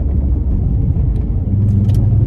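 A VW Golf Mk4 with a damaged driveshaft accelerates hard to overtake, its engine giving a loud, close, steady rumbling drone from inside the car, with no talking.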